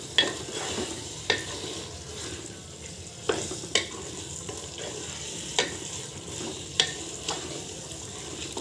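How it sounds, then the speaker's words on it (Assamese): Biryani masala with coriander powder is stirred and fried in a pan, giving a steady sizzle with a series of sharp utensil scrapes and taps at irregular intervals, close and moderately loud, with no voices. "এতিয়া এইখিনি ভালকৈ মিক্স কৰি আকৌ অলপ দেৰি ভাজি ল'ম।"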